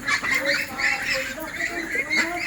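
Pekin ducks on a farm, a flock of about twenty birds suffering leg paralysis, give repeated nasal honking calls at close range with no talk over them.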